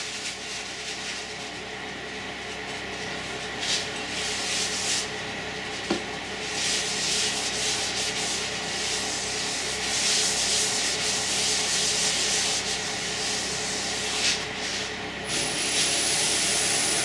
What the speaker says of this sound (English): let's get some of the fine abrasive on it